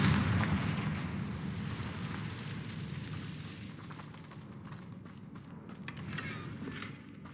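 Confringo fire spell blasting in Hogwarts Legacy, a loud fiery burst that starts strong and rolls into a sustained crackling rumble, fading slowly over several seconds with no talk.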